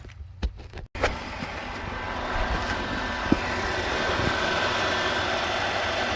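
The 3.8L V6 of a 2006 Chrysler Town and Country, which has a leaking water pump, cranks and starts, then settles into a steady, fairly quiet idle heard close by.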